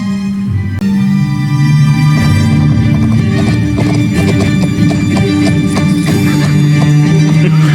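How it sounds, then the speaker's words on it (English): A ridden horse's hooves clip-clop at a steady pace in a Regency-era drama scene, close and busy, layered with music-like tones and a whinny. "The way they ride a horse."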